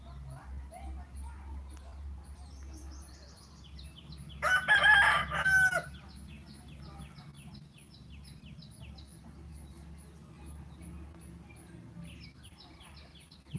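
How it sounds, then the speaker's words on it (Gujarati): A rooster crows loudly in a short burst, with softer bird calls and clucking scattered around it against a quiet rural background. "પશુ પક્ષીનો અવાજ આવી રહ્યો છે"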